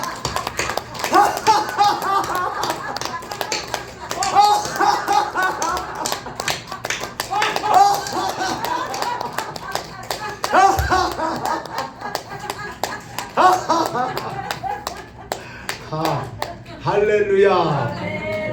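A church congregation claps rhythmically and laughs heartily together during a Sunday service, with dense sharp hand claps mixed with loud, sustained group laughter running throughout.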